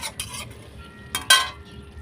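Cauliflower curry, fulkopir rosa, being poured from the cooking pan into a serving dish, with two short bursts of scraping and clinking of metal against the dish, moderately close and separated by a brief pause.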